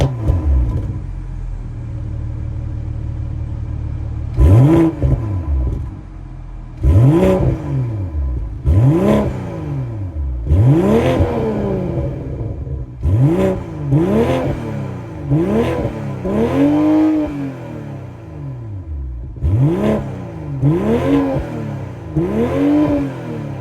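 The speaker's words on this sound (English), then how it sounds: "that was the sound of the 3-liter twin-scroll turbo B58 inline 6 sold" A 2023 BMW M440i's 3-liter twin-scroll turbo B58 inline-six revs repeatedly while parked, about eight sharp blips that flare up and fall back over a steady idle, loud and close.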